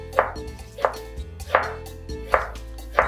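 Fresh ginger being chopped with a knife on a board, five or six steady, evenly spaced knocks, close and clear with no talking.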